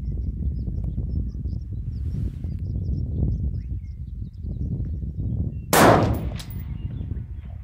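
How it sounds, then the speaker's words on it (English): A single sharp crack of a .223 rifle shot fired at long range outdoors, loud and sudden after several seconds of low wind rumble, with a short ringing tail. "Change your hold and shoot for that ram because the dirt's a little brighter."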